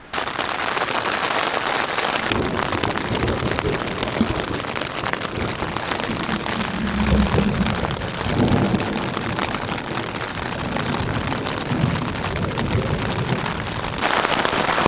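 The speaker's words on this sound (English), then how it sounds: "It's raining" Steady rain patters on a surface for a long stretch at a high-elevation camp on the Colorado Trail, a continuous dense hiss of drops with a slightly heavier moment partway through.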